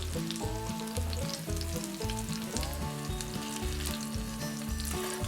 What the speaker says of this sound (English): These are going to cook for about 2 to 3 minutes.